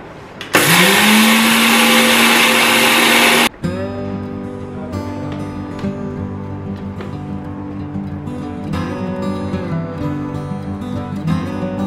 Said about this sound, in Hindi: तो बस इसी को ही ग्राइंड करूँगी अभी